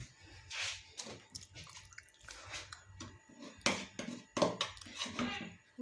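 Hot water is poured off boiled potatoes in a kitchen, with splashing, dripping and clattering pot sounds in uneven bursts, loud and close.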